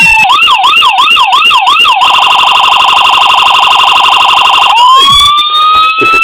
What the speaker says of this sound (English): Let's go into the siren. Sorry about that. Same siren that most of the builds have.